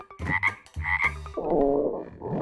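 A frog croaks in several close, loud pulses: two short bursts, then a longer rattling croak, with another beginning at the end.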